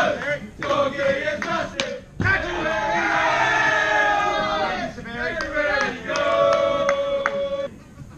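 A backyard cricket match between Australia and England draws a loud, roaring crowd that cheers and whoops in rising swells, with a commentator talking over the noise throughout.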